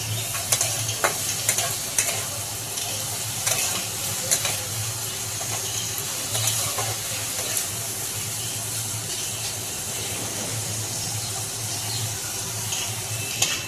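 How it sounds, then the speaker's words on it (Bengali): Shredded cabbage fries in a generous amount of oil for veg chowmein. A steady sizzle continues throughout, broken by regular scraping and stirring taps from a spatula against the pan. "একটু তেল দিয়ে দিলাম বেশি করে, যাতে ভালোভাবে ভাজা হয় বাঁধাকপিটা।"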